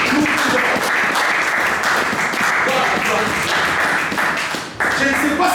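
A church congregation applauding together, loud continuous clapping filling the space with voices mixed in, a brief dip near the end before the clapping surges again.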